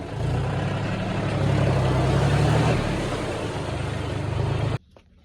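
A tractor engine runs steadily and loud up close with a low rumbling drone that swells slightly midway and then cuts off abruptly near the end.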